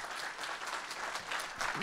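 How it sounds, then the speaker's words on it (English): Audience applause closing a talk at the A New HOPE 2022 hacker conference, a steady wash of many hands clapping across the whole clip at moderate level, with no voices over it. "a big round of applause"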